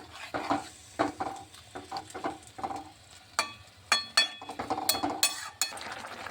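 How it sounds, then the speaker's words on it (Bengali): Helencha greens vegetable curry being stirred in a pan, with a steady run of scraping spoon strokes and light metallic clinks against the pan, close and fairly loud, with no voices. "ভালোভাবে নেড়ে চেড়ে মিশিয়ে দিচ্ছি"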